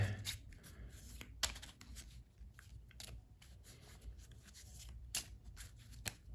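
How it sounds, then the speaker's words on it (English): Soft, continuous riffling and flicking of playing cards being shuffled at close range, with irregular crisp snaps over a low background hum. "I'll just give these a bit more of a shuffle."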